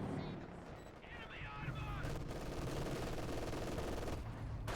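Sustained machine-gun fire from an MG42 in the Company of Heroes 2 strategy game, a dense crackling burst running throughout at moderate level, with speech heard partway through.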